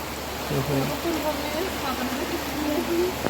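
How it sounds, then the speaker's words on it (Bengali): A steady wash of rain noise fills the background while a person talks quietly over it. "সকাল থেকে বৃষ্টি হলো না এখন বৃষ্টি শুরু হয়ে"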